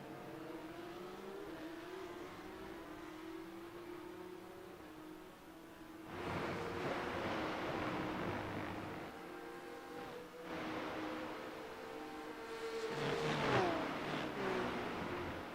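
Porsche Cup race car engines in iRacing at Spa-Francorchamps, a steady high engine drone with shifting pitch that swells twice as cars accelerate and pass, with a brief rising whine near the end.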